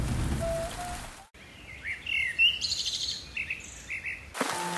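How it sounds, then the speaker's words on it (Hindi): Rain falls steadily with a soft, constant hiss, while birds chirp in short calls over it and a brief musical tone sounds at the start. "बारिश ज्यादा होने के कारण दीवारें भी गीली रहने लगी है"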